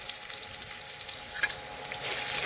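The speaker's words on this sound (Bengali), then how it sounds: "পেঁয়াজ একটু নাড়াচাড়া করে একটু লাল লাল করে ভেজে নিচ্ছি" Chopped onion frying in oil with cumin and panch phoron, a steady close hiss of sizzling that swells slightly toward the end, with faint stirring and no voices.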